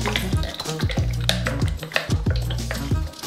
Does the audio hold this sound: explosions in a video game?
no